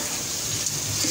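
Water is poured into chana dal cooking in a pot, a short, soft, steady splash and gush lasting about a second.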